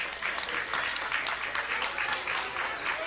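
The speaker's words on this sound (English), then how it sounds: "let's give a big round of applause for all the adult and youth volunteers" A crowd at a Cub Scout Pack 272 Pinewood Derby applauds the adult and youth volunteers, steady, dense clapping with a slight hall echo that holds evenly throughout.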